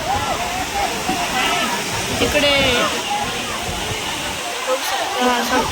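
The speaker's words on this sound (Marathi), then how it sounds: "इथे शार्लेट ला आता पाऊस पडलाय तर अख्खा धबधबा झालाय" A waterfall at Charlotte Lake in Matheran, swollen after rain, pours down in a steady, dense roar of rushing water that continues throughout while people talk over it.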